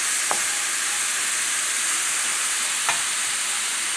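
Egg frying with bitter gourd in a pan, a steady bright sizzle throughout with two short scrapes of stirring, close and constant.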